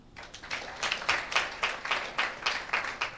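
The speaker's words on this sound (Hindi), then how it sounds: "सिस्टर के लिए ताली बजाएं।" A church congregation claps together in a steady, fairly loud rhythmic burst of hand claps, building up and continuing evenly with no talking over it.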